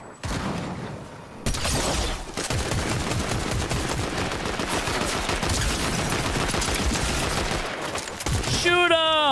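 Sustained automatic gunfire in Fortnite, a dense, loud, rapid stream of shots running for several seconds, with a voice briefly heard over it.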